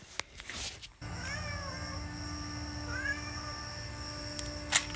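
A cat meows in drawn-out, rising and falling cries, two close calls in the middle over a steady background hum, with brief clatter at the start and end.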